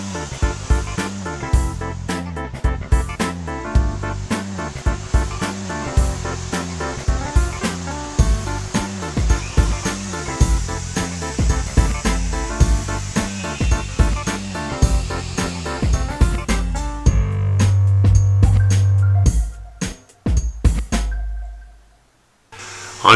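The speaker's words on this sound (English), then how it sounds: "using a plunge router and cutting the mortise in 3 passes about 1/4 inch deep" A plunge router cuts mortises into the ends of crib spindles in repeated quick passes, a loud whining roar rising and dropping rhythmically, then a longer steady run before it winds down.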